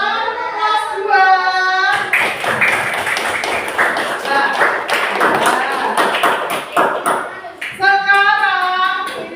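Children clapping hands in a classroom, a burst of rapid, sharp claps in the middle, between stretches of a voice at the start and end.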